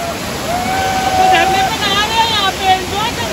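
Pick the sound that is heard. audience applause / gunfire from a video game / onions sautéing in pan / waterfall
waterfall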